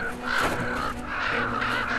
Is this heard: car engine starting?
no